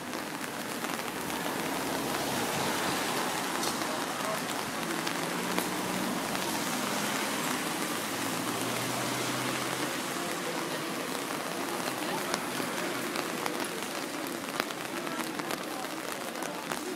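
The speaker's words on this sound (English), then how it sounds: "It's pouring rain" Pouring rain on Rue Oberkampf in Paris's 11th arrondissement, a dense, continuous patter on the street and surfaces that holds steady throughout, with faint city sounds beneath it.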